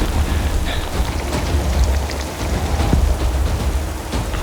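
Heavy rain falls in the Lake District, a loud, dense, steady downpour hissing on surfaces with low rumbling beneath, no voices.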